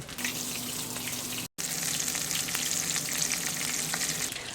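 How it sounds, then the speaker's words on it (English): Steady, loud sizzling of coconut shrimp frying in oil, continuous throughout with a brief cut near the start. "Hear that nice sizzle."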